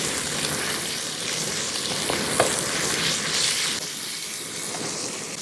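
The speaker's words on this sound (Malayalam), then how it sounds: "വെളിച്ചെണ്ണ ഒന്ന് ചൂടായ ശേഷം മീഡിയം രീതിയിലുള്ള ഒരു 2 സവാള കനം കുറച്ച് അരിഞ്ഞ് വെച്ചിരിക്കുന്നത് ആ സവാള അങ്ങോട്ട് ഇട്ട് കൊടുക്കാം." Thinly sliced onions hitting hot coconut oil in a pan, a close, steady hissing sizzle with a brief clink around the middle and a slight easing near the end.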